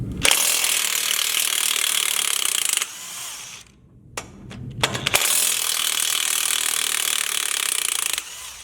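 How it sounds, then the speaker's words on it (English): A ratchet works loose the 18mm power steering box bolts on a Jeep JLU, clicking in fast continuous bursts up close with a brief quiet pause in the middle. "So I'm going to go ahead and remove these 4 18mm bolts. These are for the power steering box."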